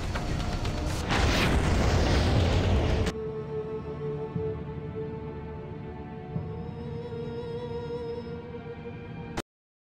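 A heavy missile explosion strikes a ship in the space game Freelancer: a loud, dense burst lasting about three seconds, then it cuts to a quieter rumbling engine drone with faint tones.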